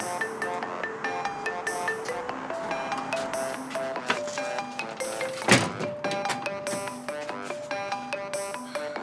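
A mobile phone ringtone plays at home during a dinner: a looping electronic melody of bright repeated notes, steady and fairly loud, with a sharp knock partway through.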